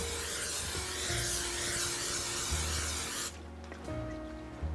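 A continuous hissing spray from an aerosol can of cooking oil, held close for about three seconds before cutting off, leaving a low background hum.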